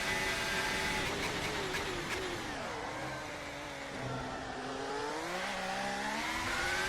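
A Formula 1 car engine screams at full power on the straight in the F1 2025 game at the Chinese Grand Prix, a steady high-pitched whine rising through gears with a brief dip, continuous and loud.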